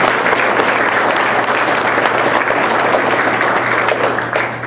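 Loud, sustained applause from a large audience at a guest speaker event, dense and steady throughout, tapering slightly at the very end.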